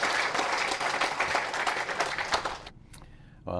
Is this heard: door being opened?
no